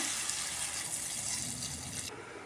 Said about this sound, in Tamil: 2 கப் வாட்டர் ஊற்றிக்கோங்க.